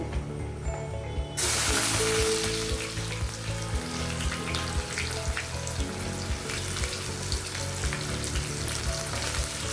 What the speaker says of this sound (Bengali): এই পেঁয়াজটাকে আমি বেরেস্তা করে নেব